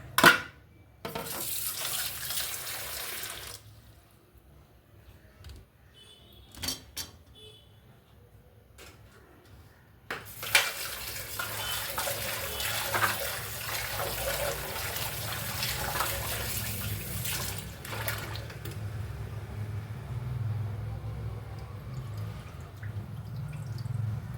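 Tap water runs steadily into a sink as cut vegetables for aviyal are rinsed, with a few clinks and drips early on, then a long continuous splashing flow, near and moderately loud, with no talking.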